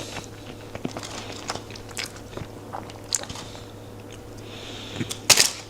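Crunchy fries are bitten and chewed close to the mic, giving a few sharp, crisp crunches spread over a quiet, hissy background, with the loudest crunch near the end.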